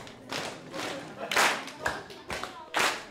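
Choir participants clap and stamp a shared rhythm together, producing sharp, regular group bursts of hand claps with thuddy stomps spaced roughly every half second, fairly close and loud.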